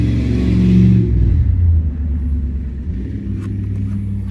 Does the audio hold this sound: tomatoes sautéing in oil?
no